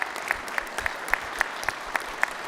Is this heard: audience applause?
yes